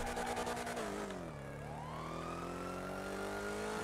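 A police car siren wails in a GTA NoPixel roleplay chase, its rising and falling tone shifting pitch as it sounds loud and continuous over steady engine noise.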